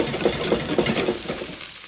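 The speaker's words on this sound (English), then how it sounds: "Let's fry this up some more." Fried rice frying in soy sauce and sesame oil with pork belly burnt ends, a steady close sizzle with rhythmic stirring scrapes recurring about every quarter second, no voices.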